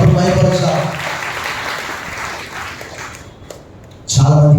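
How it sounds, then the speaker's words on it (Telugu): A church congregation at an Easter Sunday service bursts into loud, dense clapping for a few seconds, fading slightly before a voice resumes speaking, with speech also heard just before it. "బిగ్గరగా చప్పట్లు కొట్టి ప్రభుత్వం మైపరుస్తాం"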